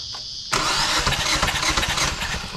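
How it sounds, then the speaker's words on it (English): 2013 Hyundai Elantra with a check-engine light and idle problem: a faint background hum, then a sudden start as the engine catches and settles into a rough, pulsing idle nearby. "Now I turn the engine, see the ignition coil here working good."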